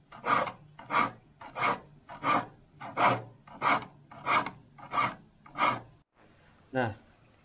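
A file rasps across the teeth of a hand saw being sharpened, about nine evenly spaced strokes in steady rhythm, close and clear, followed by a brief pause and a softer final scrape.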